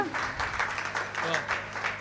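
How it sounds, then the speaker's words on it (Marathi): Audience at a kirtan clapping together, a brisk, fairly faint patter of hands under someone talking over it. "तर एकदा टाळी वाजवा त्यांच्यासाठी मस्त"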